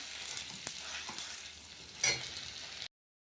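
Radish greens hitting a hot pan of oil with ginger make a close, steady sizzle with a few stirring scrapes and a brief louder crackle near the end before the sound cuts off.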